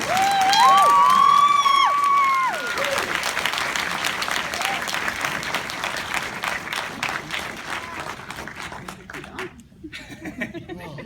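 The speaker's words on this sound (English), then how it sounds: "round of applause for Tom Hiddleston" An audience claps and cheers for Tom Hiddleston at a film Q&A in Chicago, a loud burst with whoops and a voice at first, then steady applause that gradually thins out.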